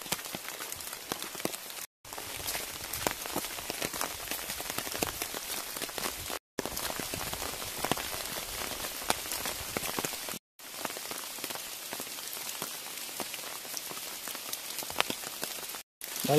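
Steady rain patters on a narrow forest trail in a mountain woodland, a dense, even hiss of drops on leaves and ground that runs on at moderate level with a few abrupt short gaps.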